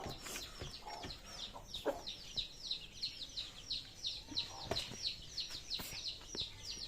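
A native country hen clucks in a steady run of short repeated calls, close by, with a few louder squawks and light background noise.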